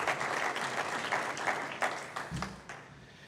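Brief applause from the audience at a small business awards event, moderately faint and tapering off, with a few louder individual claps as it dies away.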